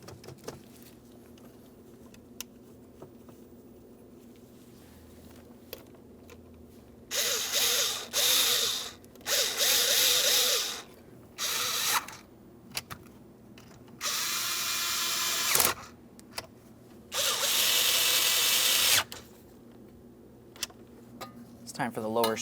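A power tool whirs in several short bursts, close and loud, as it snugs the ignition switch mounting nuts on a 2005-2010 Chrysler 300, with quiet pauses between runs.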